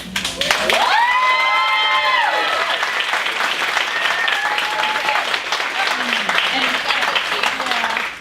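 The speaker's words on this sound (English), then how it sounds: "I'd just like another round of applause for all of our nominees" Steady applause from an audience fills the space, with some cheering and crowd noise mixed in, continuous and fairly close throughout.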